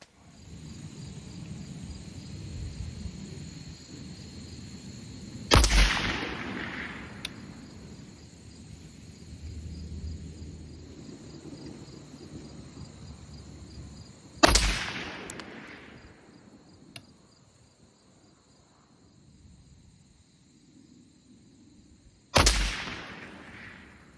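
Three widely spaced, sharp rifle shots from a Hi-Lux M40 firing Hot Munitions 168 grain match ammo crack out over an outdoor range, each decaying quickly, with crickets chirping steadily in the background.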